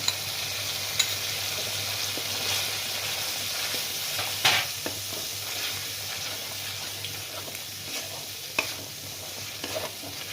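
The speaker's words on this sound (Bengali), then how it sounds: "মশলাটা প্রায় আমার ভাজা হয়ে গেছে নব্বই ভাগ এরপরে আমি কাজু আর পোস্ত বাটাটা দিয়ে দিচ্ছি" A spice paste with cashew and poppy seed paste sizzles and fries in a pan for a prawn and pointed gourd korma, with continuous crackling and occasional stirring scrapes and clinks, close and steady, with no talk.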